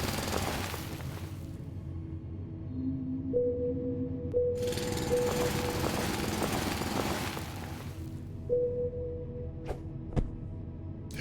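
A drill digs down through rock in the game Foundry, giving a steady rumbling grind that swells and fades in bursts over a low hum, closing with a few sharp clicks and no talk.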